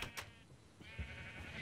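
Sheep in the Minecraft video game bleat, two short bursts near the start and another about a second in, fairly faint over a soft background hiss.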